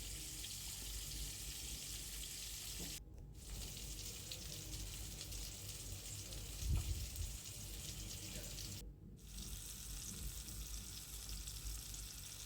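Whole spices tempered in hot oil for a mixed five-vegetable dish give a faint, steady sizzling hiss throughout, with one soft thump midway.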